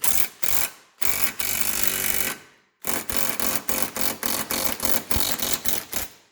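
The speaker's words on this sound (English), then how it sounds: "Get your favorite 19 mil impact socket and smash away." Repeated metal-on-metal hammering drives a 19 mm impact socket onto a front CV shaft on a 2006 Subaru Outback, coming as sharp, loud, evenly spaced blows close by after a couple of longer sustained bursts.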